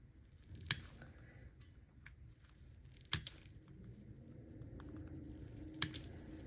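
Long gel X nail tips are trimmed down with clippers, giving three sharp, isolated snips spaced a few seconds apart against a quiet, low background.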